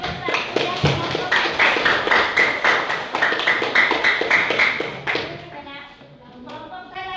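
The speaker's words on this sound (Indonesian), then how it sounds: "Oke, tepuk tangan untuk kelompok 1 ya" Group applause in a classroom for the first student team, a dense burst of many hands clapping that runs for about five seconds, then fades into murmuring children's voices.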